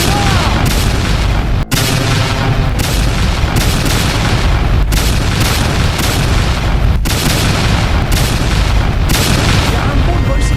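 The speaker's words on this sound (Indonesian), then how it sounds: "Nah itu dia, ayo tembak. Tembak!" Gunfire in the Roblox game Sakura School Simulator: a rapid run of loud, booming synthetic shots, one after another for about ten seconds, with a brief break near the start.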